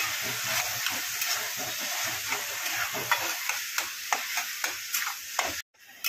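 Paneer bhurji with masala is stirred in a hot pan, a spoon scraping in repeated close strokes over a constant sizzle and hiss of frying, with a brief silent gap near the end.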